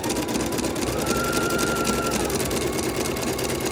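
A sewing machine stitches steadily with brown thread during a practice run, giving a continuous, close, even mechanical whir that holds at the same level throughout without any talking.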